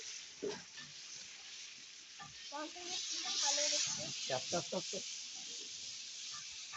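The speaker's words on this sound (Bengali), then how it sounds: "এখন দিয়ে দিচ্ছি চাউল" Rice tipped into a pot with cumin and bay leaf for a village iftar meal, then stirred, with a steady sizzling hiss under scraping, rustling stirs and brief muffled voices.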